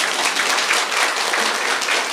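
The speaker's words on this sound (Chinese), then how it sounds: "掌声感谢一下啊！" An audience at a Buddhist Pure Land teaching session breaks into steady applause, a dense, even patter of many hands clapping close by with no pauses, sustained throughout.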